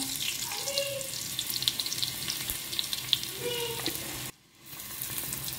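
Garlic and asafoetida crackle in hot oil for a tadka, a busy close sizzle with sharp pops and a few scrapes, cutting out abruptly for a moment before resuming, no talk.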